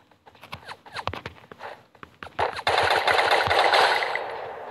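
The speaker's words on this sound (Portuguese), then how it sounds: "Cara, tava atirando em mim aqui" Bursts of automatic gunfire from an enemy in a shooter video game, a scattered volley of sharp shots that thickens into a dense, sustained rattle, loud and close, with no talk over it.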